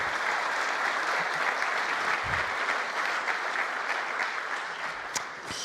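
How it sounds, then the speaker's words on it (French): A conference audience at SymfonyLive Paris 2016 applauds after a live demonstration: dense, sustained clapping from a full room that holds steady for several seconds before tapering slightly at the end. "J'aurais espéré quelques applaudissements pour cette superbe démonstration."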